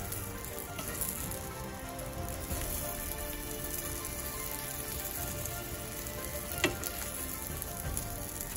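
An egg omelette fries in a pan with chili flakes and black pepper, giving a faint, even sizzle and crackle that runs on with one small clatter and no talking.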